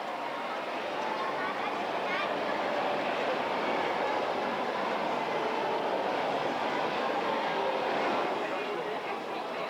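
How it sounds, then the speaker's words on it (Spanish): A high-speed train driven by a linear motor gives a steady broad rushing roar that holds even for the whole stretch, with a voice talking over it. "Los trenes con motor lineal son un medio de transporte de alta velocidad, cómodo y seguro."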